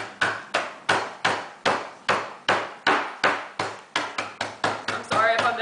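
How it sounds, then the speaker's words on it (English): A hammer crushing Oreo cookies on a table, about a dozen sharp, loud, evenly spaced thuds that quicken near the end, followed by a brief burst of speech. "use your hammer. Make sure you have a good hammer."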